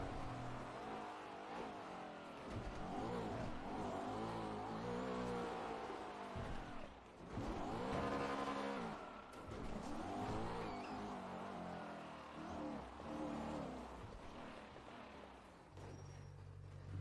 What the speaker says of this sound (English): Sorry, I've got the loudest car.